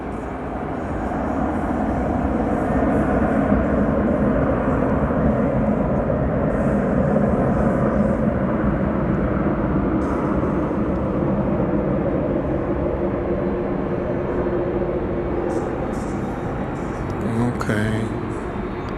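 An airliner departs DFW Airport at night on a flight to Mexico, a loud, steady jet roar that holds for about twenty seconds. A few brief clicks and rattles come near the end.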